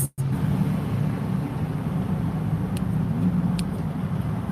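Steady low rumble of road traffic heard from inside a car stuck in a jam, a continuous even drone with a couple of faint high ticks, no talking.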